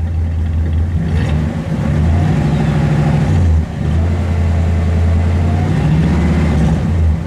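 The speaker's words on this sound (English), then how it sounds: "A nice little rumble. Go ahead, give it a rev." Car engine revving through a dual exhaust, a deep steady rumble close by that swells with a couple of throttle blips and settles back to idle, with no talking over it.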